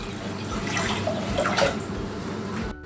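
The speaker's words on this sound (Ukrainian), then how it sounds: "Тепер і заливаємо 1 літр, самозвичайна холодна вода." Cold tap water, about a liter, poured steadily into a container for an eggplant marinade, a continuous close splashing flow that cuts off abruptly near the end.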